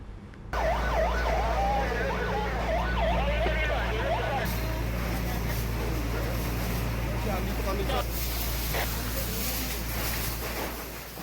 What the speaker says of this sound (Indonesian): dikejutkan dengan suara sirene mobil pemadam kebakaran